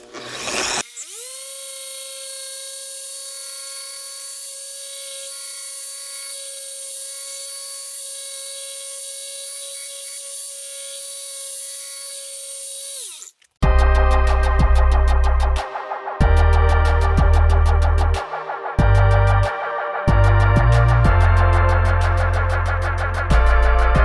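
A car polisher runs on paint for a long stretch, giving a steady, loud, high motor whine. Then it abruptly switches to a harsher, choppy, intermittent buzz with brief gaps.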